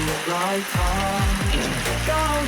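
Heavy rain pours steadily over a home vegetable garden with trellised climbing plants, a loud continuous wash of falling water with someone talking over it throughout.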